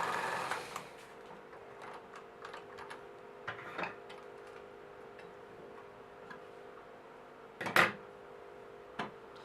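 A sewing machine stitches a seam on a waist jacket, giving a quiet steady whir with light ticking clicks and a brief louder clatter near the end. No one speaks.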